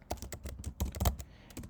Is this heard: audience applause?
no